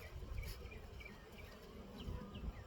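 Honeybees buzzing around hives in a late-summer dearth during hive inspection, a low continuous drone with occasional nearer passes, steady and moderately faint with no talking.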